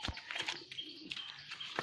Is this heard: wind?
no